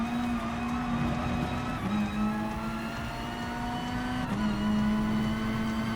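A race car engine drones in the Gran Turismo Sport video game, holding a steady high tone with small pitch drops at gear changes, loud and continuous with no talk.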